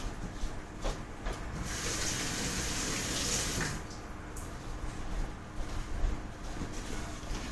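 A running tap pours steadily into a sink as an item is washed under it, a continuous close hiss of water with slight shifts as the item moves through the stream, and no talk.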